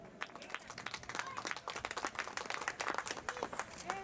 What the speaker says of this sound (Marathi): सर्वांनी टाळ्या वाजवा कृपया